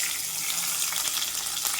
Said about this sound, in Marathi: तर मोहरी आणि जिरे टाकून घेते